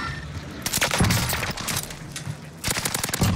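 A PPSH-41 submachine gun fires in rapid automatic bursts within a Call of Duty Rebirth Island match, loud and close, with a brief pause mid-clip before another burst resumes.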